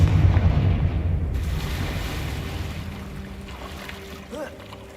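A Confringo fire spell explodes in the video game Hogwarts Legacy, a loud, deep, rumbling boom that fades slowly over several seconds, with a faint tonal game effect near the end.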